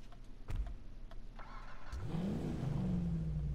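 An SUV in GTA 5 Online blips its muscle-style exhaust, a couple of short revs rising to a loud, sustained roar, close and alone with no talk.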